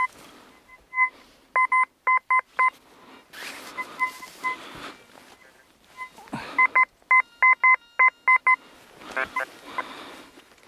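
Bursts of sharp electronic beeping from a metal detector in quick repeated groups, loud and close, separated by scraping and rustling movement, while searching a field for coins.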